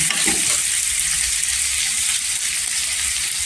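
Onion softening in a hot pan for methi bhaji, a steady loud sizzle holding evenly throughout with a faint clink or stir near the start and no voices.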